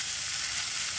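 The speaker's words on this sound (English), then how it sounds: "They should start to sizzle, and that's the right way to make the rosti." Grated potatoes hit hot butter in a pan for rosti and sizzle in a steady, loud, dense hiss, close up and with no talk.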